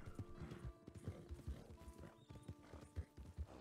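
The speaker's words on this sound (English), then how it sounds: "Stop your goddamn horse" Horse hooves pound in a fast galloping clip-clop in a Red Dead roleplay game, rhythmic and close, with a brief whinny partway through and muffled voices underneath.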